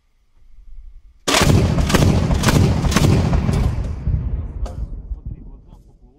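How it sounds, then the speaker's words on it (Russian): Artillery rocket fire from a cluster-munition launch during the war in Donbass, a sudden loud roaring burst followed by sustained rumbling with repeated sharp cracks fading over several seconds, outdoors on a battlefield. "Взрывы пришли."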